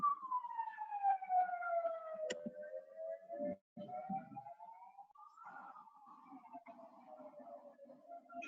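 An ambulance siren wails with slow rising and falling tones, fairly faint and distant, with some muffled background rumble.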